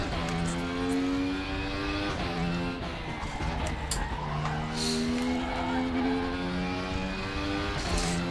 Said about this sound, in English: You can hear the traction control going a bit mental.